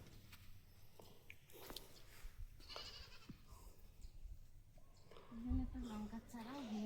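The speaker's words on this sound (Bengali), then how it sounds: "ছাগল ডাকছে কাদের ছাগল" A goat bleats once near the end, a short wavering cry, after quiet outdoor rustling and soft movement.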